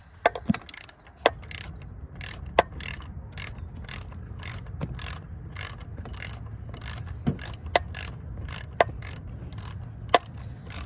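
Rapid metallic ratchet clicks loosening a rear injector on a 12-valve Cummins engine come in short bursts, a steady ticking rhythm with a few sharper snaps, close up over a low background hum.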